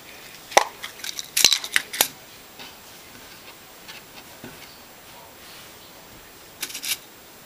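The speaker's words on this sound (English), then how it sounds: "I'm just going to pin this down and cut it out." Scissors snipping through knit sweater fabric pinned over a glove outline, a few quick, close cuts clustered early, then sparse faint handling noises and a short final burst of snips.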